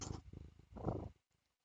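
Pet cat purring close to a microphone, a soft rumbling purr lasting about a second before fading to near silence.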